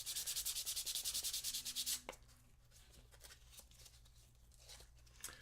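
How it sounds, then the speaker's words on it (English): A 3D print is sanded by hand with 320 grit sandpaper: about two seconds of loud, fast, rhythmic rasping strokes, then softer, scattered scratching rubs. "Sand, sand, sand, sand, and more sand."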